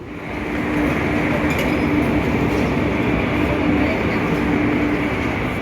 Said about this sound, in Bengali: ট্রেনটা বেরিয়ে গেল, ট্রেনটা পাবো না